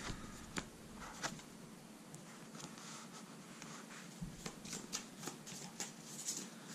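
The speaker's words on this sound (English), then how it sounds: "Shuffle these back in," Playing cards for the Street Masters board game are shuffled close by, with soft riffling and rapid flicks and a few sharp snaps, quiet and unhurried.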